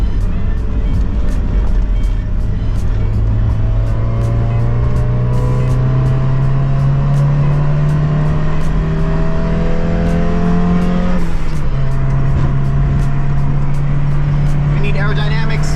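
A Mazda Miata accelerates up a freeway on-ramp, its engine note climbing steadily through the revs, dropping at a gear change, then climbing again, loud and close with road roar and a rhythmic ticking over the top.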